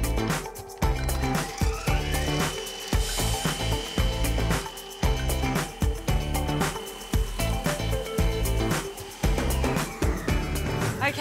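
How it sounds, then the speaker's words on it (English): Chunks of cabbage fed through the chute of a fine slicer, a loud continuous whirring motor with rapid irregular chopping and clattering as the pieces are shredded. "So just through the chute, I'll feed through chunks of cabbage so it's finely sliced."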